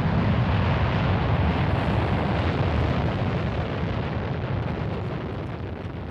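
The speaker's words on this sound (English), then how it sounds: "Is that a rocket?" A rocket launch in the underwater adventure game Dave the Diver gives a steady, dense, loud roar with broad rumble that holds for the whole stretch, easing slightly toward the end, with no voices.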